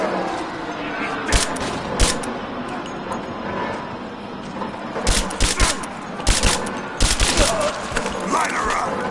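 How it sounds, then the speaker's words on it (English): Gunfire erupts in the action-adventure game Rise of the Tomb Raider: scattered sharp shots and short volleys over a busy background, the heaviest burst clustering late, with voices talking over the combat. "Taking fire!"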